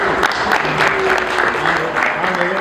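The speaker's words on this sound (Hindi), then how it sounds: "आप उनके लिए तालियां बजा दीजिए।" Audience applause at a mushaira poetry recital in Houston, a dense steady wash of clapping throughout, with faint voices murmuring underneath.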